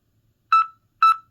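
Two short, bright electronic beeps from the LCD charging case of Sixthgu V700 earbuds, a timer alert sounding about half a second apart, loud and close against near silence.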